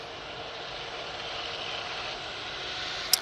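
A Ryanair Boeing 737-800 jet taking off from Manchester Airport, heard as a steady broadband engine roar that swells slightly, continuous throughout with no talking.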